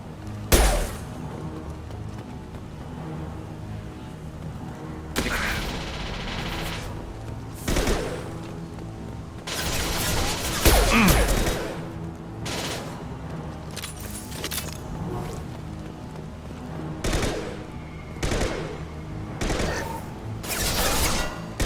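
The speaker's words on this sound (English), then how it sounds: "Nice shot. I love this rifle." Rifle fire rings out in the Mass Effect 2 game, with repeated sharp shots and bursts spread across a busy combat soundscape, loud and close, with no talk over it.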